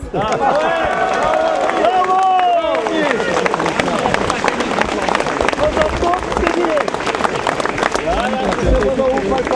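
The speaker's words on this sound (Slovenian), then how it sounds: "še en velik aplavz za vse nas" Applause and cheering from a crowd at a protest rally held outside the supreme court, loud and sustained throughout, with a dense wash of claps mixed with shouting voices.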